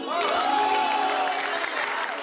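Audience applause at a comedy event, dense and steady throughout with a crowd murmur and a tonal sound running under it.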